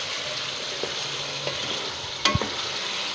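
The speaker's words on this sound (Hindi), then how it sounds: "इसको अभी हम थोड़ा सा फ्राई होने देते हैं।" Chicken pieces fry in hot oil in a pot for a spicy qorma, a loud steady sizzle broken by a few scrapes and clinks of a spoon stirring, with no talk.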